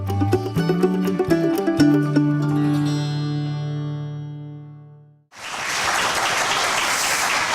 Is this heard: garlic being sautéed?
no